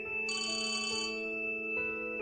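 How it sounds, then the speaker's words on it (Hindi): A phone ringtone for an incoming call plays as a steady, bright electronic melody, loud and close with no other sound. "फिर से उसी का कॉल।"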